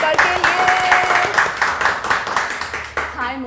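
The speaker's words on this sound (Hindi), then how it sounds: "जोरदार तालियां हो जाए" Studio audience applause welcoming a guest onto a Hindi talk show, a steady wash of clapping that carries on for several seconds, with a voice rising over it near the end.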